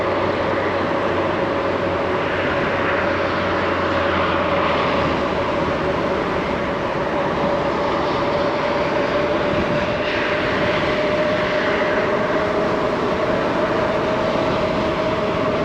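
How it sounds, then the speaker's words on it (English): Loud, steady wind roar buffets the microphone while riding an Aventon Aventure ebike downhill, with a constant broadband rush and a faint tonal hum running underneath. "the wind is really, really loud"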